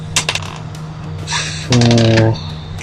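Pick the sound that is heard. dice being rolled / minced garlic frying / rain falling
dice being rolled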